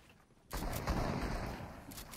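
A burst of rapid gunfire in Fortnite erupts after a brief quiet moment and keeps rattling steadily, fairly distant and muffled, with no talking.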